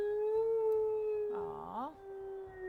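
A wolf in WolfQuest lets out a long, steady howl that holds one pitch, with a brief wavering rise and fall partway through, carried over a faint game background.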